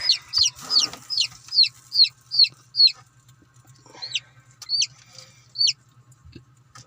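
Newly bought chicks peep in a quick run of high, rising calls, about eight in a row, then a few scattered peeps after a pause, close and fairly loud over a low steady hum.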